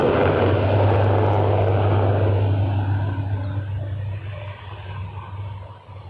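A Dash 8 turboprop airliner at Toronto Pearson drones loudly with a strong steady propeller hum, then gradually recedes and fades as it moves away.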